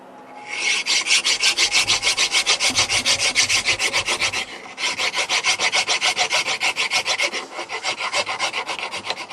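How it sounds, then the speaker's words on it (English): Hand file rasping across a natural stone toggle-switch cover, a steady run of quick, even back-and-forth strokes, loud and close, with one brief pause midway before the filing resumes. "And as I'm filing with this file"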